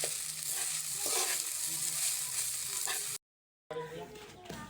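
Fried rice is stir-fried in a pan with a soft, steady sizzle and light scraping, then a brief silent gap before the frying continues.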